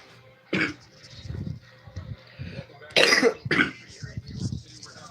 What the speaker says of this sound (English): I'm sorry if you guys hear me coughing.